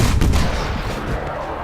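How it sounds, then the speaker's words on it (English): In the XCOM 2 video game, Wiz fires on a muton: a loud, close burst of gunfire with heavy low thumps, a couple of sharp shots up front trailing into a rumbling decay. "So Wiz can fire and kill the muton."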